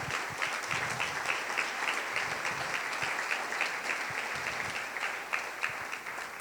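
Sustained clapping from a congregation during a Sunday church service, many hands blending into a thick, steady patter that holds at an even level throughout.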